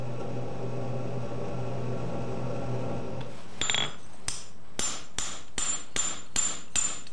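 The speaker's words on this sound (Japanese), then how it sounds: "鋼側を土で叩き平らにします" Steel is hammered flat while forging a small knife by traditional methods, a steady low hum giving way to a series of about seven sharp, evenly spaced metallic blows, loud and close.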